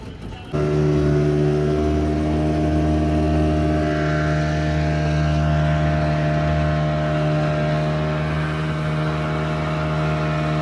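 A motorboat on a ride at Nagaon beach, Alibaug, starts up abruptly and then drones loudly and steadily, its engine hum strong and close, with faint voices underneath.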